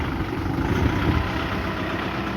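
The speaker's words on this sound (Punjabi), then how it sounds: "ਆਵਾਜ਼ ਬਹੁਤ ਸੋਹਣੀ ਟਰੈਕਟਰ ਦੀ ਹੈ ਨਾ" Steady, close mechanical drone of a tractor engine running on a farm where a carrot-sowing machine is in use, a continuous low rumble with no break.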